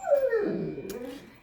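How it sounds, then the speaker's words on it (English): A pet dog gives a short, high, descending whimper that slides into a soft whine, heard from a little distance in a quiet indoor room, lasting about a second. "You can hear my doggy in the background."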